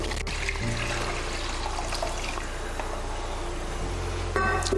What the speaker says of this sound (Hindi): मैंने 5 से 6 गुना पानी जो है वो माप के रखा हुआ है, अब मैं इसमें डाल रही हूँ।